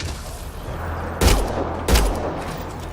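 Gunfire in the video game Mass Effect: Andromeda, two loud, heavy blasts about a second apart, each with a booming low thump, over a constant rumbling battle background.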